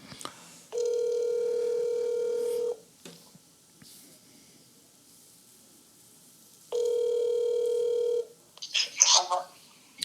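Ringback tone from an outgoing telephone call, two long steady electronic rings separated by a few seconds of quiet, fairly loud and close, followed by a brief burst of a voice answering.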